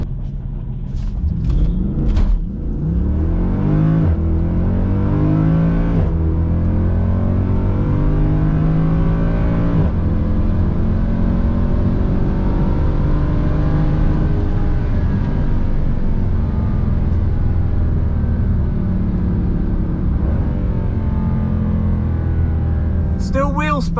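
A Mercedes C63 AMG launches hard at a drag strip on tyres dropped to 30 psi, its engine a loud, sustained roar with rising revs while the rear wheels spin; a voice speaks over the start.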